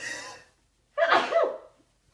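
One sharp, forceful sneeze up close, preceded by a soft breathy sound and followed by quiet.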